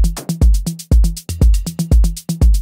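Electronic tom in an Afro house beat with its low end filtered out, hitting in a quick repeating pattern alongside punchy kick drums, loud and upfront.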